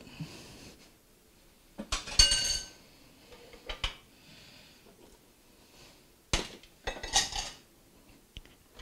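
Potato pieces drop into a pot for Japanese curry, a few soft clinks and clatters against metal in short bursts, with quiet stretches between.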